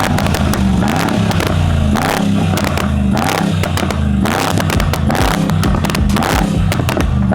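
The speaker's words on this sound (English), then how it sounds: "You guys just heard the Rocket exhaust with the 800 turbos from Brabus." Brabus G63 with Rocket exhaust and 800 turbos, no downpipes, revving hard: a loud, continuous engine roar with repeated sharp crackles and pops from the exhaust throughout, close and without talk.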